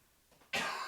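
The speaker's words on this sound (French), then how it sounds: "Tousse un petit peu." A single short cough erupts sharply after a faint throat sound, close and loud in a quiet room during a podcast conversation, with no other talking.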